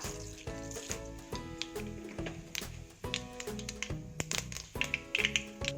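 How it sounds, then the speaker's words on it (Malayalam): Mustard seeds pop in hot coconut oil while clam curry is being made: a rapid scatter of sharp, close crackles and ticks over a faint sizzle. "കടുക് പൊട്ടി"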